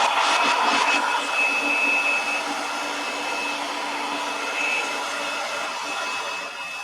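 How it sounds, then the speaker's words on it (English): A hairdryer blows steadily at close range over wet paint on a mixed-media flag, a loud continuous whooshing whine with a thin tonal hum that holds for the whole stretch and tapers slightly toward the end. "But first, I'm just going to hit this with a hairdryer."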